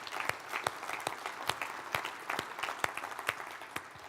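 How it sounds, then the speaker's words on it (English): Sold-out crowd at a technology event applauds itself, a steady wash of many hands with distinct louder claps popping out, heard from a distance and fairly quiet. "Give yourselves a round of applause, am I right?"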